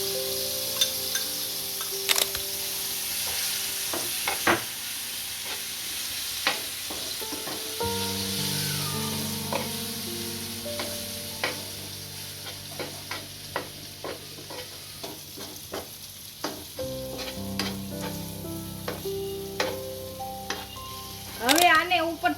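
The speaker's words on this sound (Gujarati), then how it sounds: "આમાં હવે લસણની ચટણી નાખીશું।" Garlic chutney hits hot cumin in a pan and fries with a loud sizzle, while a utensil stirs it with repeated sharp scrapes and clicks.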